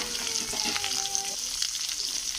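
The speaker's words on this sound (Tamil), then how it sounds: "தக்காளியையும் சேர்த்து நல்லா வதக்கிக்கோங்க" Onions and tomatoes sauté together in a pan with a soft, steady sizzle, joined briefly by a faint tonal hum early on and no talking.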